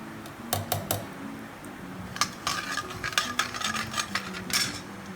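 Spoon scraping and clinking against a pan while stirring mustard seeds, cumin seeds and hing for dal tadka, a series of sharp metallic taps and scrapes over a low background hum.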